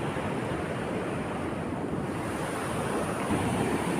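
Strong floodwater rushes loudly and continuously in the aftermath of Typhoon Odette, a broad steady roar mixed with wind buffeting the microphone.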